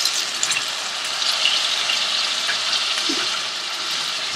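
Drumstick pieces, cut to 1.5 to 2 inches, tossed into a hot kadai, producing a steady loud sizzle and hiss of frying that continues without a break.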